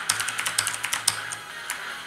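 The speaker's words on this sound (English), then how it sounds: "I'm not doing that bad with this nice mechanical keyboard" An Aula Demon King mechanical keyboard clacks under gaming use, with close, crisp keystrokes coming in quick irregular bursts and no voices over them.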